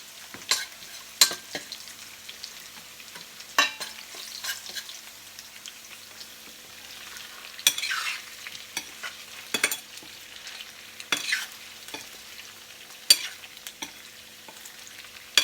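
Garlic sizzles softly in a pan for chicken kaldereta, a low crackling fry broken by repeated sharp clinks and scrapes of stirring, close and without talk.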